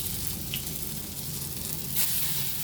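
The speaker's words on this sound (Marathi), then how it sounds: "आणि तेलात फ्राय करायच्या." Cut pieces frying in hot oil in a home kitchen pan: a steady, close sizzle with a brief crackle as something is stirred or dropped in, no voices.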